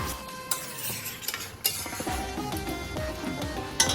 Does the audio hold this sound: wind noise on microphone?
no